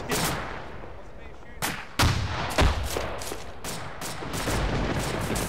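Gunfire in the Arma 2 military video game: a series of sharp, loud shots and booming reports cracking out irregularly over a steady battlefield rumble, several louder blasts standing out near the middle.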